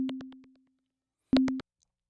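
Ableton Live Operator synth with looping envelopes on its oscillators: a steady tone with a pulsing, rhythmic buzz fades out over half a second, then after a short silence a brief, louder burst of the same tone returns.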